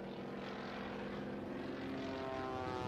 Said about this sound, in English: Jimmy Franklin came down in the Waco, just virtually on the edge of a stall.